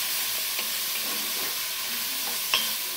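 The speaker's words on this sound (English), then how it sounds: "We're going to stir this down again" Onions with kosher salt are stirred in a Dutch oven, a loud continuous sizzle and frying hiss filling the background while faint spoon scrapes and a single sharper tap of the utensil come through near the end.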